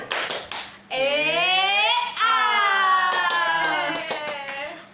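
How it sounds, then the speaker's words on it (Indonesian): Schoolchildren in a classroom do a rhythmic spirit clap: short bursts of hand claps open and close the passage, with a long sustained group chant of young voices shouting in unison in between. "Tepuk semangat."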